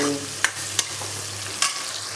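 A tadka of onions browning in oil for saag sizzles in a pan over a clay wood-fired chulha, a steady hiss close by with a few sharp clinks of a stirring spoon.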